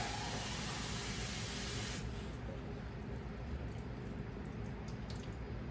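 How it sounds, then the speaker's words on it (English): Water pouring steadily into a sheet pan for a cheesecake water bath, a continuous close hissing splash that softens after the first couple of seconds. "we're gonna go ahead and pour the water"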